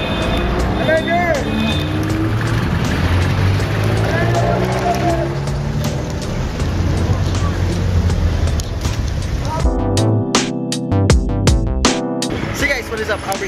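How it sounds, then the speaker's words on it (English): Ride in a jeepney in the Philippines, with a rumbling diesel engine and road noise filling the cabin, voices talking over it, then a louder engine rev and clattering near the end. "I'm going to be riding a jeep right now"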